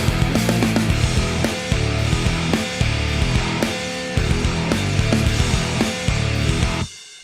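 Electric guitar played through the MIKKO amp plugin with two blended cabinet mics, one a 57, heard as a steady loud riff of chugging chords and accents alone for about seven seconds before cutting off.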